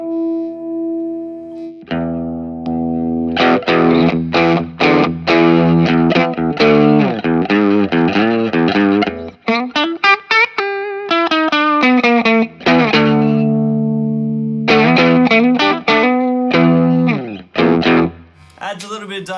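An electric guitar played through a Mosky MM Silver Overdrive pedal with the gain raised slightly, giving a mildly gritty, dynamic tone in strummed chords and single-note runs, loud and close with brief pauses between phrases.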